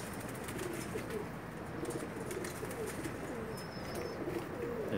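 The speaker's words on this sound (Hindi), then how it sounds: "ये जनाब अबू बकर भाई कबूतर जो नार है इस मादी का, उसका शौक करवा रहे हैं।" A Pakistani pigeon coos softly in repeated low, throaty phrases over a steady background hiss, with no talking.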